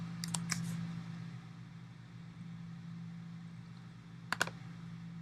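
Quick clusters of keystrokes on a computer keyboard as a lead description is entered in SugarCRM, one brief burst at the start and another near the end, over a low room hum.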